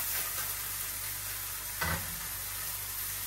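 Potatoes frying in a pan with cumin, coriander, turmeric and a little tomato: a steady, quiet sizzle with a brief louder stirring scrape partway through.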